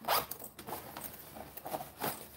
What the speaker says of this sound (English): zipper up